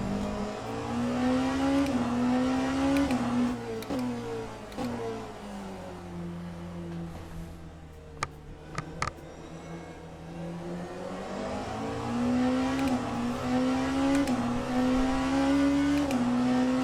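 A Porsche hypercar engine in the racing game Le Mans Ultimate drones steadily with strong harmonic tone, pitch rising and falling through gear changes, loud and continuous with a dip mid-run, no talking.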